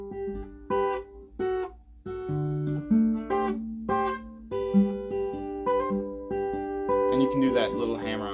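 Acoustic guitar fingerpicked Travis style in a steady alternating-bass pattern, plucked notes ringing over a thumbed bass line, played slowly and close.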